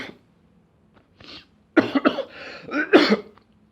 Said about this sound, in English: So now I've got a cough of the nervous variety.